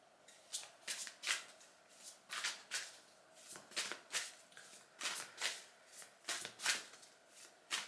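Tarot cards from a Tarot Grand Luxe deck are shuffled by hand in a quiet room, with a steady run of crisp riffling bursts, roughly two per second, close and clear, and no talking.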